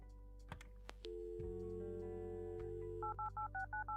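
Telephone dialing tones from the point-and-click video game Kathy Rain: a run of short, evenly spaced touch-tone beeps at the end, preceded by a brief click and a steady low hum, with no talking.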